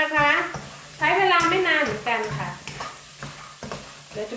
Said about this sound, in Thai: หัวหอมกับกระเทียม ต้องคั่วให้สุกเลยค่ะ